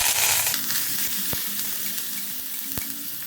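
Crushed onion, garlic and curry leaves hit hot oil in a pan after mustard seeds have popped, giving a loud, steady sizzle and crackle with a couple of sharp knocks of a utensil against the pan.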